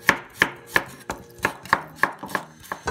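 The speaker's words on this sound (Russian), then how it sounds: "Порежу чесночок." A knife chops garlic on a cutting board with about nine crisp, evenly spaced strikes, close and clear with no talk.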